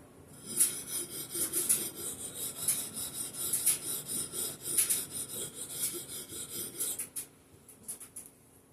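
Husqvarna hatchet edge being sharpened on a coarse Norton Crystalon stone, a steady series of close, gritty rasping strokes in an irregular back-and-forth rhythm, with no voices.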